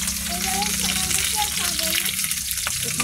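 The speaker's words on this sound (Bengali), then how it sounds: "লঙ্কা সব দিয়ে দিলাম তেলে" Onion, garlic and chillies frying in hot oil, a loud continuous sizzle close up with faint stirring, while a voice talks softly underneath.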